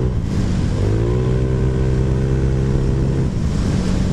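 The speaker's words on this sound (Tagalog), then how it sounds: "Ganda ng tunog ng makina ko." A Honda Click scooter engine with a Z5 camshaft idles roughly, then its pitch climbs in a steady rev that holds for a couple of seconds before dropping back, close and loud.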